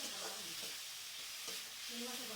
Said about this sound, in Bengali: ভাজা মাছগুলো দিয়ে আমি একটু আবার মশলাটা কষিয়ে নিচ্ছি।